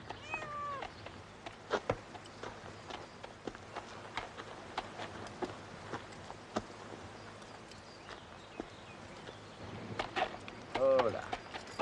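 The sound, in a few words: cat meowing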